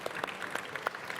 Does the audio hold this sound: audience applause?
yes